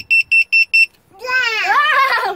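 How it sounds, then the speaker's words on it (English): A ViFly Finder 2 drone beeper gives four loud, evenly spaced electronic beeps up close, followed by a person speaking after the beeps stop. "See, it has a little beeper on the back."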